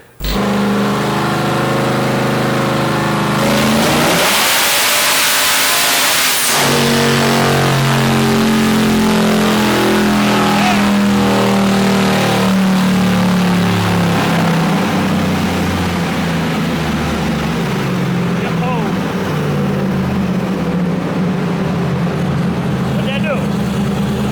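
A two-door Chevy Tahoe with a Godzilla engine swap, making over 1000 hp on low boost, revs hard on a roller dyno. A loud, climbing engine roar with a brief sharp burst early on stays steady and close throughout.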